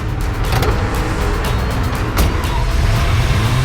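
Car engine and road noise rushing close by as a vehicle speeds off, loud and continuous, with a few sharp knocks and thumps mixed in and no talking.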